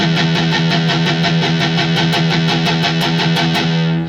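Palm-muted distorted metal rhythm guitar, a steady fast chug of tightly damped low notes in an even repeating pulse, loud and close for about four seconds with no talking.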